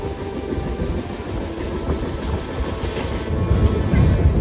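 A passenger train runs along the rails toward Basar railway station, giving a loud continuous rumble and rattle. Near the end the rumble deepens and grows heavier, as if the train is slowing on its approach.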